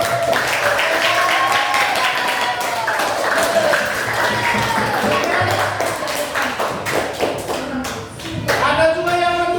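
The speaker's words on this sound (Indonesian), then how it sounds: "Kita tepuk tangan dulu untuk" A primary-school class applauding together in a classroom, a steady wash of clapping hands filling the room with voices mixed in throughout.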